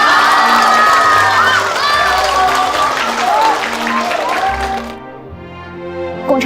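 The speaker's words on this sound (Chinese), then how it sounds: "大家鼓掌。" Crowd in a TV drama scene applauding and cheering at a commendation ceremony, a dense, loud and steady wash of clapping with shouts, voices mixed in, before it drops off abruptly near the end.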